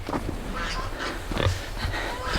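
Pigs grunting in a milk stall on a farm in winter, a series of low, close grunts with faint background noise.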